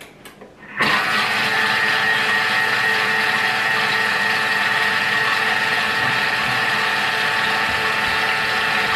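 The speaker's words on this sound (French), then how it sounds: "pendant 20 secondes, je vais mélanger tous les ingrédients. à vitesse 4." Kitchen mixer running at speed 4 to blend recipe ingredients, starting abruptly after a brief pause and holding a loud, steady whirring drone with a high motor whine throughout.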